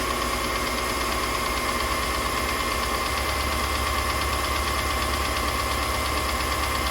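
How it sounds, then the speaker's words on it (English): A rough-running van engine knocks steadily at idle, a loud close continuous rattle and drone with no voices over it. "But the engine sounds like shit."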